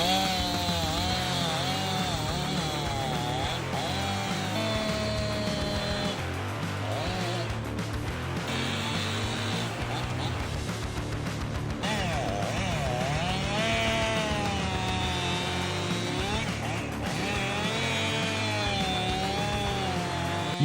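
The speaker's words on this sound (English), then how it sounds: "The image of a chainsaw at work in the forest represents the fusion of forestry techniques and modern technology." A big chainsaw cutting in the forest runs with a continuous buzzing whine. Its pitch rises and falls as the engine revs under load, and it stays fairly close throughout, with no voices.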